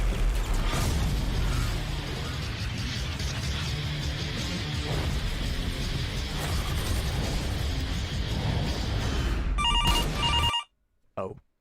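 Amid dense, busy sounds from a free first-person shooter game, a telephone ringtone rings out in short repeated bursts near the end before everything cuts to near silence; a voice can be heard faintly.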